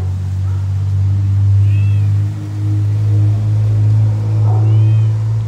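A cat meows faintly a couple of times over a loud, steady engine hum.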